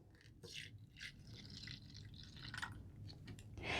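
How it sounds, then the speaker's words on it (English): A little warm water poured onto soap to clean makeup brushes, a faint, quiet trickle and dripping at close range that builds slightly toward the end, with no talk. "After you put the soap in, you're going to put in a little bit of warm water."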